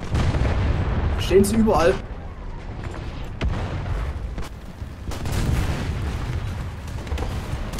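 Tank gunfire and explosions in War Thunder, with a Cromwell V in play: several sharp cannon cracks and booming impacts scattered across the scene, some distant, while someone talks over them.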